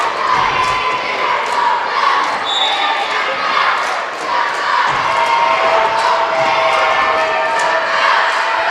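Crowd at a Class 1A boys basketball semifinal, a loud continuous roar of cheering and shouting children with sneaker and ball thumps mixed in, steady throughout.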